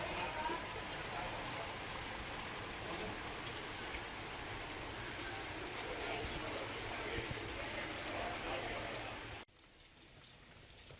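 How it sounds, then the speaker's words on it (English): Steady rain pattering on surfaces in Robin Hood's Bay, North Yorkshire, a dense even hiss that runs for about nine seconds before dropping abruptly to a quieter wash. "Rain again."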